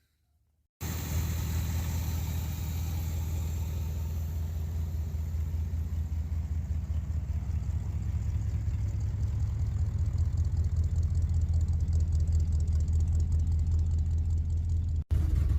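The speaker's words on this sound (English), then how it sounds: "Got it crunk up sitting here idling." An old 1979 Chevy C20 pickup truck engine with a rebuilt Quadrajet carburetor idles with a steady, low rumbling drone after a short silence, continuing unchanged to the end.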